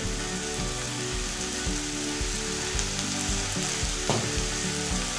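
Ground cumin, coriander and chilli powder fry in a hot pan with a steady, close, loud sizzle and crackle, broken by occasional stirring scrapes, with no voices.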